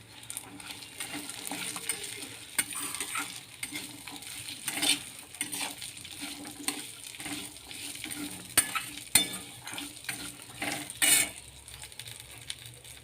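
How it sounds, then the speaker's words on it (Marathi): Fresh green peas added to a hot oil tempering with sesame seeds, frying with a low steady sizzle as a spoon stirs and clinks against the pan in scattered taps, no talk. "आता याच्यामध्ये ओले मटार घेतलेले आहेत मी ते घालून घेते"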